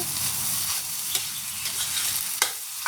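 Pork fried rice stir-fried in a pan, a continuous hissing sizzle with occasional sharp scrapes and taps of a spatula, close and alone without talk.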